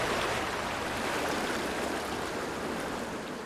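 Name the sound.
creek water flowing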